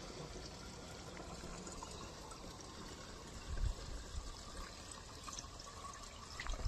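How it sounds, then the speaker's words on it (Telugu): Water pours into a 20-litre sprayer drum on a farm, a faint, continuous splashing trickle with a few soft knocks. "మన డ్రమ్ములోకి అయితే వాటర్ పోసుకొని ఇంకా స్ప్రే చేద్దామని స్టార్ట్ చేసేసాను."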